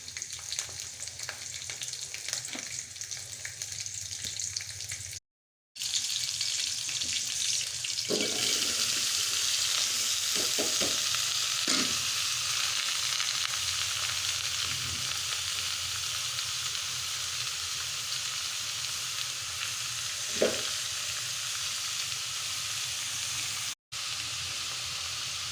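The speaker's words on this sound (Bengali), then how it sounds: "রসুন দিয়ে ভাজি করবো।" Vegetables with garlic and green chilli crackle in a hot pan, sizzling steadily and fairly quietly throughout, with occasional stirring scrapes and light clinks.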